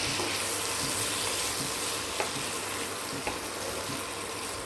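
Onions and peanuts fry steadily in a pan for a brinjal fry, a constant close hiss with a couple of faint clinks, no talking.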